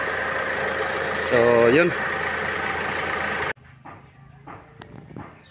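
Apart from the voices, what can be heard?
car engine idling during aircon check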